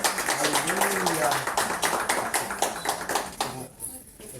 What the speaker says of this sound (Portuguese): Dê uma salva de palmas ao Senhor pela vida dele.